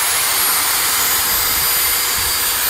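G-Force cooling fans fitted to an Arrma Mojave BLX 6s RC car, a loud, steady high-pitched whoosh and whine heard up close with no talking.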